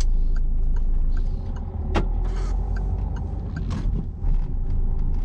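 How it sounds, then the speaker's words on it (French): A car in first gear pulls away during a driving test, its engine humming steadily inside the cabin, with a few mechanical clicks and knocks over a constant low interior rumble. "Je remets la une, clignotant. Et je repars tranquillement."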